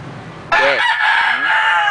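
A rooster crows loudly and close by, a sudden strident call that starts after a short quiet moment and holds steady.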